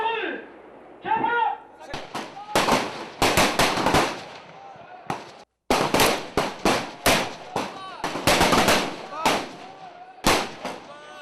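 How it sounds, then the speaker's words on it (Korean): Rifle gunshots ring out in rapid, irregular succession at a military shooting range during recruit marksmanship training, loud sharp cracks close by with brief gaps, one short pause near the middle, and faint voices underneath. "실탄으로 100m, 200m, 250m의 표적을 맞춰야 하는 기록 사격 훈련이죠"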